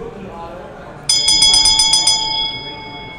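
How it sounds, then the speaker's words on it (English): A bell rings in a quick run of about seven bright, metallic strikes whose tone then hangs and fades, following a stretch of talking. "Oh, ring the bell."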